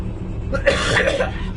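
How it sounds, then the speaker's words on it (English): A short burst of harsh coughing, close and fairly loud, with a rough throaty texture. "Why can't I stop coughing?"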